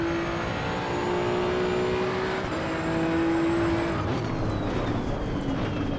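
A Maserati GT2 race car in Assetto Corsa EVO, its engine holding a steady, droning tone for several seconds before the pitch shifts as the revs change, close and continuous with no talking.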